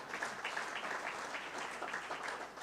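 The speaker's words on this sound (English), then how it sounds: "Let's clap for ourselves." Steady applause from a conference audience, many hands clapping together at an even level, with no talking over it.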